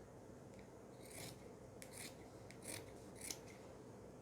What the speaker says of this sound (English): So I'll now cut into 4 like this.